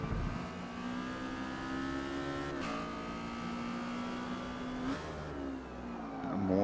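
Exocet race car in Forza Motorsport at the Nürburgring, a steady mid-pitched engine drone climbing through the revs, dipping at two gear shifts before pulling again.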